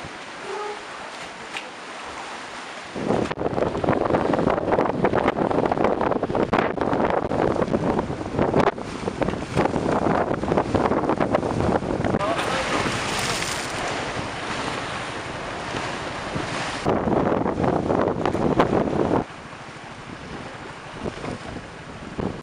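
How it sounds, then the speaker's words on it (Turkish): A storm wind batters the seafront in Balıkesir, where large tour boats are moored: loud gusts buffet the microphone over crashing surf and sloshing water, easing near the start and end. "Fırtına nedeniyle ilçe merkezindeki sahil bandında bağlı bulunan bazı büyük gezi teknelerinin de birbirine çarparak maddi zarar gördüğü gözlendi."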